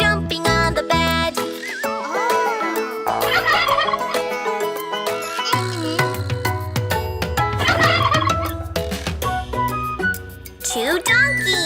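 Cartoon turkeys gobble in bursts over a bouncy children's song with music and a child-like singing voice throughout, the gobbles standing out loudly in the mix.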